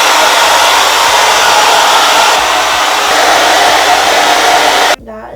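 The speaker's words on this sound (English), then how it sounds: "I'm just gonna go for like a regular blow dryer tonight." A regular handheld blow dryer drying hair, a steady loud close whoosh running for about five seconds and then cutting off abruptly, followed by faint room sound.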